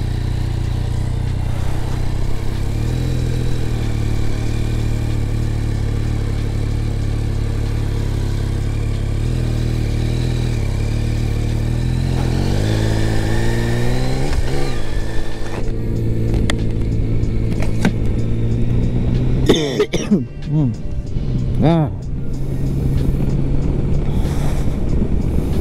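A 2021 Yamaha Tracer 9 GT motorcycle engine runs steadily up close, then revs and pulls away, with rising and falling engine tones and some clatter near the end.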